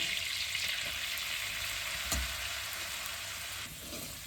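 Maida flour being stirred into butter and oil in a pan, a steady broadband sizzle throughout with soft scraping of the stir and one brief knock partway, continuous and fairly close with no voices.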